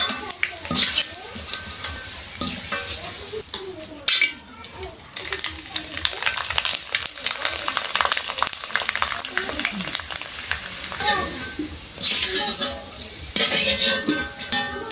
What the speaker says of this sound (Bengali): আর এখন আমি চিপসগুলা ভেজে নিচ্ছি।